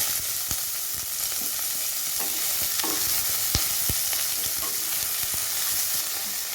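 Thin-sliced onion and green chillies sautéing in hot oil in a pan for mushroom pulao, a loud continuous sizzle with frequent stirring clicks and scrapes throughout.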